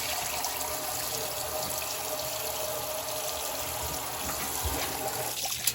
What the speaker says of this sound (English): What I'm going to do is rinse them off very thoroughly.